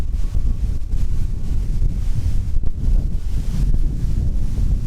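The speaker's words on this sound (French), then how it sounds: "là ça souffle de ouf" Strong wind at a mountain lookout in Bavaria, a loud continuous low roar of gusts pounding the microphone with no pauses and no talking.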